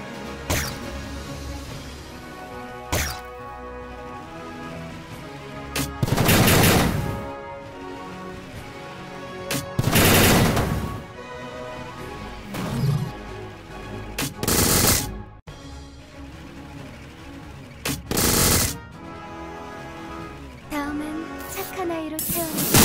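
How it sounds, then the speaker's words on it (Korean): Artillery in the Last Origin game fires together in loud, sharp bursts of blasts and crashes that repeat at irregular intervals over a continuous layer of combat effects. "아틀러리 모두 발사."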